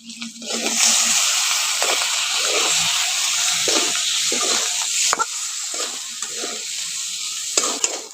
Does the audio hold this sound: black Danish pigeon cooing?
no